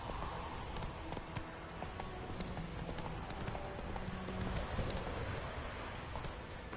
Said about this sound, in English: Run, Roach. Giddy up.